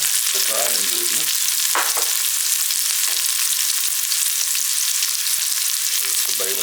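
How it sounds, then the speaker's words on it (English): Tomato paste and dry ingredients sautéing in a pot for oxtail stew, a loud, continuous sizzle with a few stirring knocks and scrapes near the start and end, no talk. "Then we'll add the other dry ingredients and saute that for another 3 minutes."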